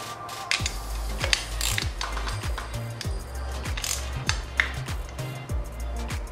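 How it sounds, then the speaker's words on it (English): A quarter-inch ratchet tightening bolts on a YZ125 dirt bike, giving a steady run of quick, close clicking strokes in repeated bursts over faint background noise. "now I'm going to go ahead and tighten down all these bolts with the quarter inch ratchet"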